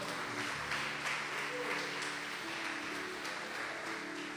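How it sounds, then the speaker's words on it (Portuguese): Congregation applauding after a sermon, steady diffuse clapping from many hands, fairly faint and distant, sustained throughout with no talking over it. "Você pode aplaudir o Senhor por isso?"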